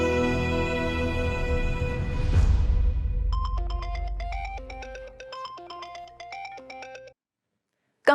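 Phone ringtone playing a repeating melodic tune for several seconds in a household drama scene, loud and alone, after a swelling tonal sound, then abruptly stopping.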